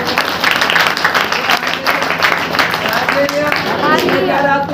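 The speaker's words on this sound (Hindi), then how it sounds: "ताली बजाकर" Congregation clapping hands at a Saturday church power meeting, dense continuous applause from many people, with voices heard alongside it.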